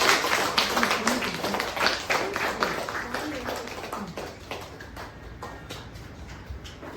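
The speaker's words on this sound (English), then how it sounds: "Can you give a big round of applause?" A Toastmasters club audience applauds an award recipient with a burst of dense clapping that gradually thins and fades, and voices talk over it.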